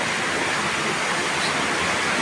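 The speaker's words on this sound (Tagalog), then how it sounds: "Lakas ng ulan, oh. Lakas ng tubig guys." Loud, steady broadband rush of heavy rain or pouring water, continuous and close, with no break throughout.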